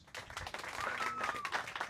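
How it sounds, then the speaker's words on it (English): Scattered applause and clapping from a small outdoor crowd at a community baseball field ribbon cutting, faint and uneven with individual claps, a whistle-like tone and some background voices mixed in. "So let's give them a round of applause."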